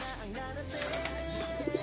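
Homing pigeons coo softly, a few low throaty coos rising near the end, close and alone with faint background noise.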